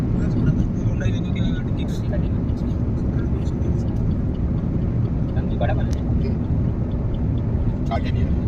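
A car drives through a long road tunnel, a constant roaring rumble of engine and tyres filling the cabin, with voices faintly present underneath.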